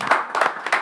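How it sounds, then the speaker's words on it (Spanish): Several short bursts of clapping ring out in a restaurant, hands hitting in quick uneven clusters from a small group of people, moderately loud and close. "pues un aplauso por todos"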